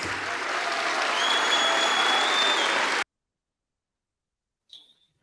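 A group at a Turkish political speech claps and cheers for about three seconds, then the applause cuts off abruptly into silence before a faint short squeak.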